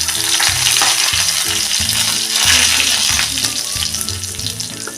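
Cumin seeds, broken dried red chillies and curry leaves sizzle loudly in hot oil for a Marathi raw-mango kadhi tempering, a steady crackling hiss with rhythmic low stirring scrapes throughout, close and without speech.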